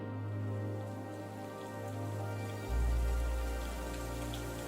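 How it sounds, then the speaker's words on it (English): Steady rain pouring down on the African savanna, a dense even hiss of drops with a low constant rumble underneath, moderately quiet and unbroken throughout. "The sudden downpours quench the land, washing away the aridity of the dust."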